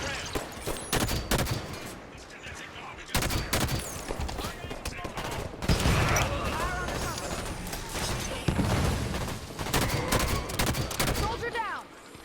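Heavy gunfire in a Halo 5: Guardians battle, with dense bursts of automatic fire and sharp shots coming in volleys, loud and close, mixed with game voices and combat clatter.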